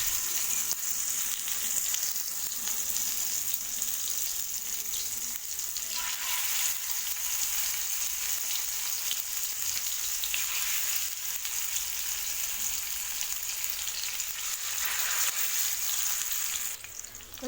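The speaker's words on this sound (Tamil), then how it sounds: "வச்சுட்டு நம்ம மசாலா தடவி வச்சுருக்கிறேன் மீனை எண்ணெயில் போட்டுடலாம்" Masala-rubbed fish fries in oil over a low flame, producing a constant, even crackling sizzle that holds steady from start to finish, close by and unbroken by talk.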